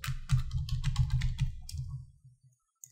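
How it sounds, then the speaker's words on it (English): A username and password being typed on a computer keyboard, heard as a quick, close burst of key clicks that slows, trails off and stops, followed by one last tap. "You're gonna type your username and the password for the controller."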